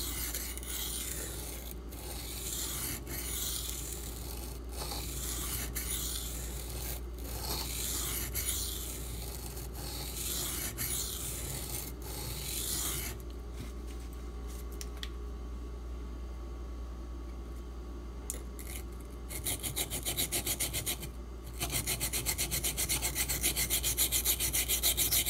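A D2 steel knife blade rubbed against a sharpening stone in steady, repeated strokes, with a scraping texture over a constant low hum; the strokes change character partway through and grow louder near the end, with no talking.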